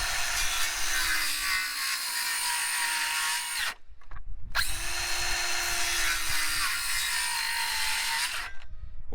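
A power saw blade cuts repeatedly into a hay bale for a garden bed, two long loud whining passes separated by a short pause, close up and with no talking.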